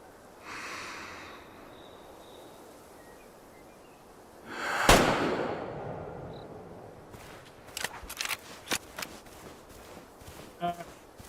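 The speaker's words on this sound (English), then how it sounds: "Let's just shoot this guy." A single sharp rifle shot rings out at an animal in the hunting game Way of the Hunter 2, preceded by soft breathing-like noise and followed by a few faint clicks and thumps.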